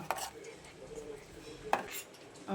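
Spoon scraping and clinking against a metal pot while rice kheer is stirred with condensed milk, a few sharp clanks over a soft background with a voice talking.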